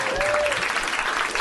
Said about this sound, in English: Let's give a really, really heartfelt round of applause to Bill.